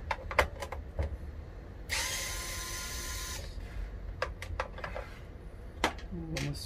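A power screwdriver backs screws out of a Philips air fryer, its whirring motor running in a steady burst of about a second and a half amid clicks, clatter and handling noises close by.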